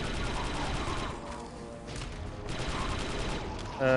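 Dense, continuous gunfire and cannon blasts from the video game Star Wars: Republic Commando in a loud battle mix, with voices faintly under the din and a brief lull midway.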